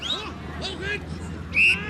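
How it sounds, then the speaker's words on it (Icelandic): A referee's whistle ends the first half of an international football match between Iceland and East Germany at Laugardalsvöllur in 1986, sounding as a sharp, brief shrill blast near the end over crowd murmur and a commentator's voice. "hér flautar hann til loka fyrri hálfleiks í landsleik Íslendinga og Austur-Þjóðverja"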